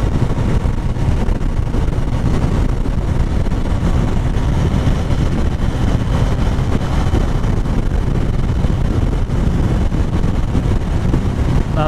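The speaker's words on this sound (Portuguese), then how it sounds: "Até agora a moto tá rodando de boa." Onboard sound from a Suzuki GSX-R motorcycle cruising on the road: constant engine rumble mixed with heavy wind buffeting, loud and unbroken throughout.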